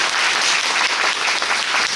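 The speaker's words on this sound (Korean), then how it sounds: "진솔하게 답변해 주신 배우분들께 박수 한번 부탁드리겠습니다" An audience at a musical's stage greeting applauds the actors, a dense steady burst of clapping filling the hall, close and even, with no voices.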